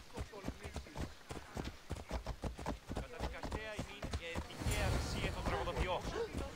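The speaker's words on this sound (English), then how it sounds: "Horse, Phobos." A horse's hooves clip-clop at a steady trot in the Assassin's Creed Odyssey video game. The rhythmic hoofbeats sit up front while a voice talks over them and background game sounds swell near the end.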